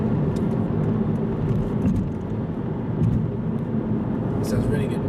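An Aston Martin Virage engine roars steadily up close in sport mode, its drone rising and dipping through gear changes, with a brief higher whine near the end.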